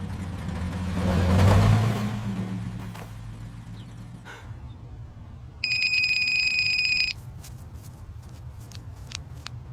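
A mobile phone rings with an incoming call, a bright electronic ringtone of steady stacked tones lasting about two seconds, following a louder rumble like a passing car and set against quiet outdoor background noise.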